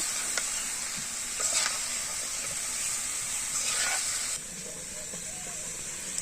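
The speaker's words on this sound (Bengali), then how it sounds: "ভালো করে ভাজার পর আমি পরিমাণ মতো জলটা দিয়ে দিব।" Water goes into a hot pan of spices fried with salt, chili powder and turmeric, producing a loud steaming hiss and sizzle with a few stirring scrapes, which then settles to a softer simmer.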